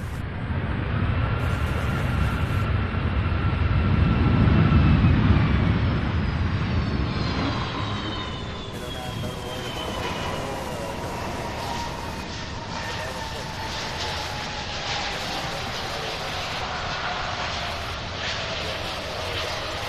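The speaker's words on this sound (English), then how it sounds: "Beautiful landing. The 757 coming out of San Juan." Boeing 757 airliner landing at Louisville International Airport, a loud roaring jet engine whine that swells as it passes close, then fades into a steady, descending hum with people talking over it.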